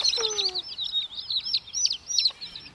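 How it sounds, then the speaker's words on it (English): Young chicks eating poultry crumbles, peeping constantly: a close flurry of high, repeated chirps with no other sound. "And those chicks are eating, aren't they, Ransom?"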